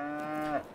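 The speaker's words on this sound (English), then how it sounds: "40 milking dairy cows." Dairy cows in Farming Simulator 22 give a single clear moo, a long sustained bellow with a rising swell near the end before it cuts off, standing alone with no talk.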